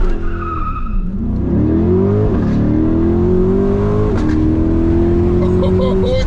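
Loud engine of a 2023 Chevrolet Corvette C8 accelerating hard from inside the car, rising revs through several gear shifts, the pitch climbing and dropping back with each change.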